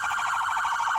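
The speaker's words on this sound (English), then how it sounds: "Oh, the fucking audio alarms are going off." A vehicle's alarm blares steadily during a police bodycam encounter, a loud, continuous pulsing electronic wail with rapid regular oscillation and no voices.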